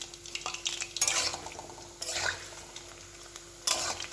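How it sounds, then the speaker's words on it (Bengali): Chicken pakoras fry in a pan and are stirred, with distinct scraping bursts of the spoon against the pan over a low, steady background sizzle; no one speaks. "এগুলো আর একটু ভাজি।"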